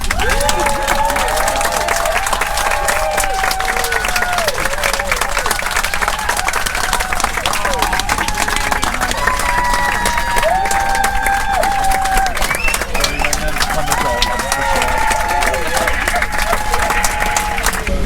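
Passengers aboard a British Airways airliner bound for London Gatwick clap steadily to welcome the pilot, a dense sustained applause from a crowd in the cabin, with chatter and a few cheers mixed in throughout.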